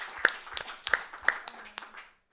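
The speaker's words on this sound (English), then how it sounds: "can I get some clapping for Easy?" A small audience at a speedrun event claps, a sparse handful of distinct, close hand claps in an uneven rhythm that stops abruptly.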